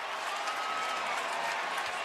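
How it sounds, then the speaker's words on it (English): A stadium crowd at a Kentucky versus Georgia college football game in Commonwealth Stadium cheers and applauds as a broad, steady roar from a distance, with a voice faintly beneath it. "The crowd's into it now."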